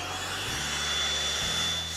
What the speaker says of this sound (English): Then vacuum it up.